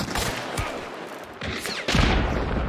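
Gunfire in the video game Hunt: Showdown as a shot is taken at a barrel: several loud cracking shots a short way apart, the last one heaviest and followed by a sustained booming roar.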